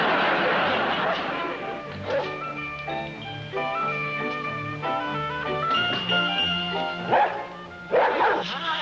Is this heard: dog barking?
yes